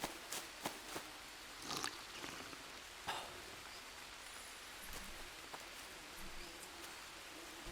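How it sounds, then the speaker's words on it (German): Rain falling in the jungle survival game Green Hell, a steady hiss of drops on surfaces with scattered sharper clicks and taps, moderately quiet and without speech. "Aber es regnet ja sowieso schon die ganze Zeit."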